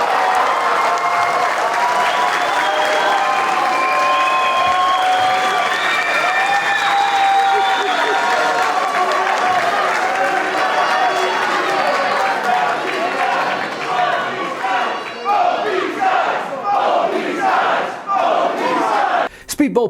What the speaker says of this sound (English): the crowd, not knowing who to chant for, led the North faithful to stop picking sides and opted to chant for both these guys